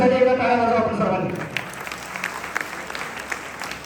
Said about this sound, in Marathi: नागरिकांनी साहेबांच्यासाठी एकदा टाळ्या वाजवा आपण सर्वांनी.